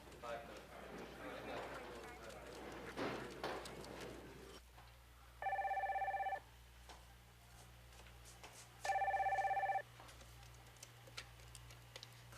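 Telephone ringing on an outside line, two electronic ring bursts of about a second each, separated by a pause, after a stretch of muffled talk.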